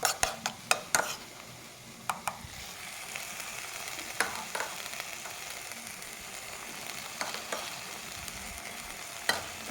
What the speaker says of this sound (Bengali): তো এটাকে আমি কষাবো।